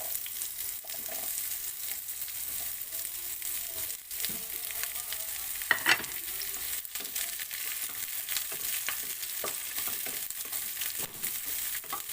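Chopped onion sautéing in a pan for paneer butter masala, a steady oily sizzle with occasional scraping and stirring clatter, plus a couple of sharper knocks of a utensil against the pan.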